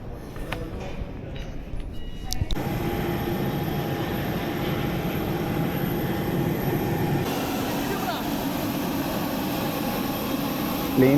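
A steady, loud roar fills the cabin of a passenger airliner as its jet engines run, starting abruptly after a quieter moment and holding constant throughout, with a voice talking faintly beneath.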